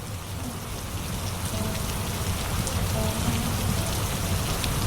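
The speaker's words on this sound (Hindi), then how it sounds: "रामू बाहर बारिश देखने चला जाता है।" Steady rain falls outside, a dense even hiss of drops with a low rumbling undertone, constant and fairly loud with no voices.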